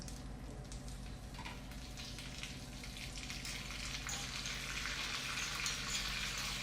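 Fresh curry leaves crackle and sizzle in hot ghee in a tadka: a dense, steady frying hiss that holds throughout and swells slightly toward the end, with no voices.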